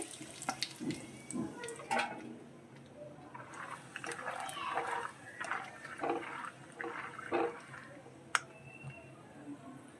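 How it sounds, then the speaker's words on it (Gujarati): Peanuts fry in a pan of hot oil, giving a steady close sizzle with scattered crackles and small pops, while a person speaks intermittently over the cooking. "હવે આપણે સિંગદાણા તળી લેશું।"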